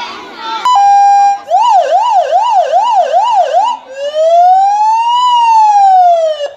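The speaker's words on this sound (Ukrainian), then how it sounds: "Дають діткам нажимати на сигнал." Police car siren set off by children during a police visit to a school, a loud close wail that first rises, then warbles rapidly for a few seconds, then switches to a slow rising-and-falling tone.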